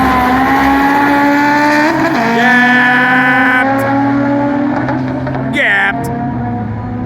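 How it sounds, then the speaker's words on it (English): A loud drag race car engine roars steadily with a high whining pitch at an import car show drag race, tires spinning and squealing briefly near the end, with commentary talk underneath. "unfortunately spun the tires."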